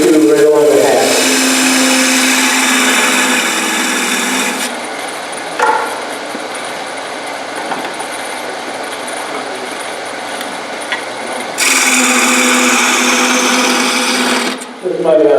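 A power tool cuts the top of a wooden snowman along the hat. The loud, buzzing whine is close and runs for several seconds at the start, drops out, then returns later, with a person talking in between.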